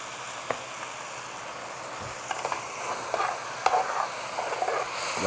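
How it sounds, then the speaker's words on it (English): Honey and berries sizzle and caramelize in a hot pan during a cooking demonstration, a steady soft frying hiss punctuated by occasional utensil clicks and scrapes against the pan. "Now I'm going to add my honey to it, so that honey will caramelize to these berries and stuff."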